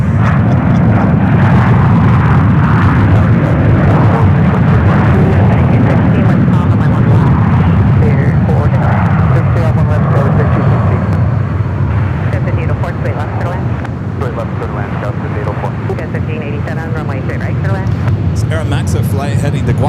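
Airliner engines roar loud and continuous at San Francisco International Airport as a flight heads out toward the runways, with someone talking over the noise throughout.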